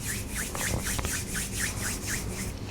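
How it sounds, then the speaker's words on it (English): Palms rub together briskly during a gentle yoga stretch, making a close, rhythmic swishing of about nine back-and-forth strokes over a low background rumble. "Rub your palms together, generating that heat."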